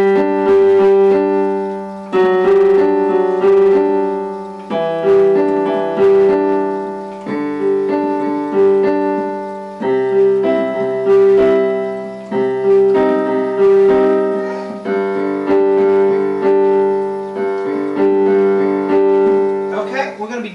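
Solo piano plays a song, repeated arpeggiated chords in a steady, even pulse with clear sustained notes, close and full for about twenty seconds without talk.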